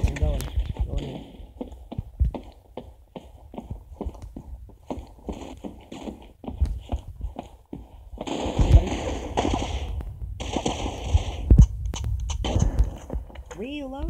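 Rapid automatic gunfire in a laggy online shooter game, dense repeated bursts of shots going on and off throughout, loud and close, with a player talking over the shooting.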